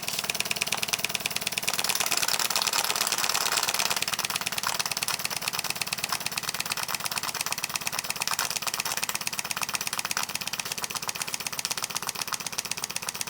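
A tiny governed steam engine runs at low pressure with a rapid, even mechanical chuffing and ticking that stays close and steady throughout, fading slightly in loudness after a few seconds.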